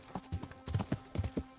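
Horse hooves clip-clop in the medieval game Kingdom Come: Deliverance, a quick uneven run of close, soft thuds in a short burst, alone without talk.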